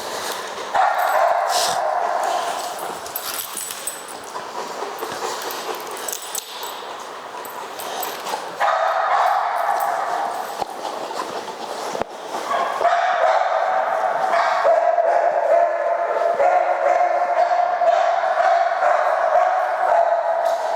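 A Rottweiler assessed for aggression toward humans barks and yips repeatedly in close, loud bursts, with whimpering mixed in and some background voices or crowd noise across the stretch.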